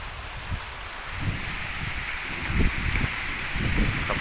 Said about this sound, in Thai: ลมมาฝนมาแล้วครับ